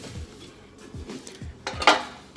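A big metal cooking pan for baby back ribs clanks and scrapes as it is handled in a kitchen, with several knocks and rattles building to a brighter metallic clang near the end, no voices.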